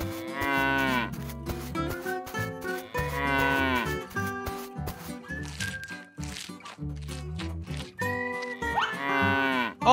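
Cattle mooing as a calf is separated from its herd, several long, loud drawn-out moos with rising and falling pitch, spaced a few seconds apart and heard up close, with softer lowing in between.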